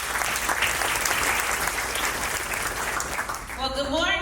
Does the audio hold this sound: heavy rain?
no